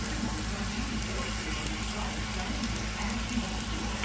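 Taco shell frying in hot oil for spicy turkey tacos, a soft continuous sizzle and bubbling with a low steady hum beneath, fairly quiet and even throughout.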